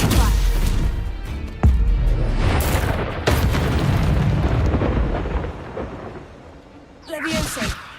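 Deep booming spell impacts from the Stupefy stun spell in Hogwarts Legacy, a couple of sharp loud cracks followed by rumbling, thunder-like tails, with a brighter magical burst near the end.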